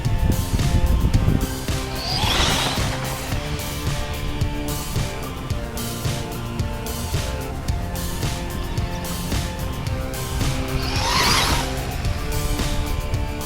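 A Losi Promoto MX RC dirt bike whines and revs as it drifts through dirt, motor rising and falling continuously with two sharper bursts of spraying dirt and tire scrub, fairly loud and close.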